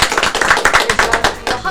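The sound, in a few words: studio clapping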